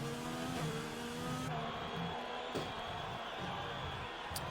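McLaren Formula 1 car in a racing video game at the Hungarian circuit, engine note rising and falling as it slides and re-accelerates, fairly quiet and continuous.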